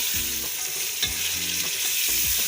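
Onion and tomatoes fry in masala in a pan, sizzling loudly and continuously while a spoon scrapes and stirs in several distinct, rhythmic strokes, close up and with no voices.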